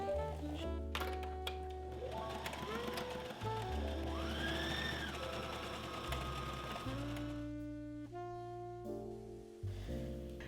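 A sewing machine stitching side seams and hems runs in bursts of rapid steady whirring, stopping and starting with varying speed, close and fairly quiet, with no talking.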